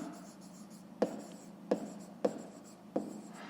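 Numbers are written by hand during a maths lesson, with four sharp pen taps striking the surface at about one-second intervals over a soft scratching background, close and quiet.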